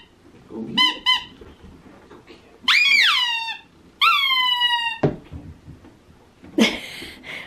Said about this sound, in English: I bet you're gonna squeak that in the middle of the night, aren't you?